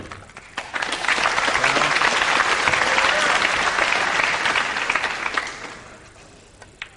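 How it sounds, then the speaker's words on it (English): Respectful applause from a British crowd at a 2003 world pool championship match fills the space, swelling quickly, holding steady for several seconds, then thinning out toward the end. "that sounded pretty respectful applause to me, Earl Strickland"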